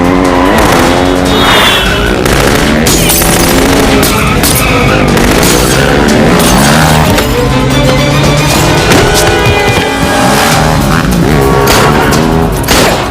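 Two motorbikes in a chase scene from a Hindi action film, with roaring engines and tire skids forming a loud, dense, continuous wash of sound that never lets up.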